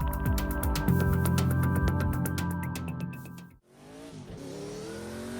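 In Project Cars 2 at Le Mans, a Sauber C9 LM race car screams with a rising, harmonic engine howl. The note cuts out briefly at a gear change, then climbs again with a lower, rougher tone, and there is no talking.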